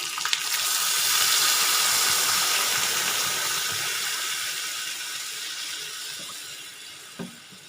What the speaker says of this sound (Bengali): কষানো হয়ে গেছে, এবার দিয়ে দিচ্ছি জল।